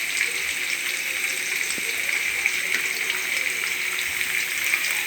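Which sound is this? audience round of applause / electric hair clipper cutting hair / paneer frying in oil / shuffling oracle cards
paneer frying in oil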